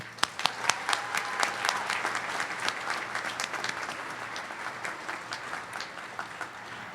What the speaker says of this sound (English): Let's give Tara a round of applause